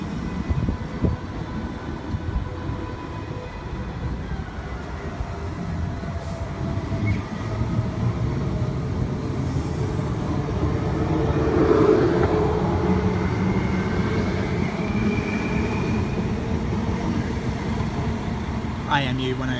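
IMU 105 train pulls out of Nerang station on a Varsity Lakes service, a steady rumble of wheels and motors building slightly mid-clip, close by with faint voices underneath.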